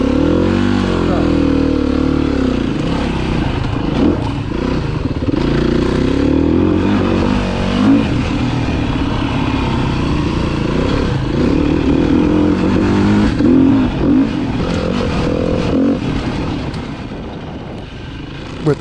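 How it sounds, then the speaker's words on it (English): A four-stroke Foxboro motorcycle engine revs high with a raspy, sustained drone, loud and close throughout with slight rises and falls in pitch. "With that engine note a little raspier there, higher up in the rev range, the bike also comes alive, feels much better."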